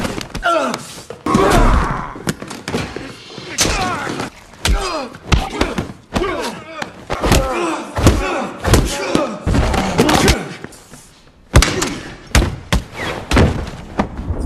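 Movie fistfight with heavy punches, thuds and slams in rapid irregular bursts, loud and close, with grunts and shouts between blows.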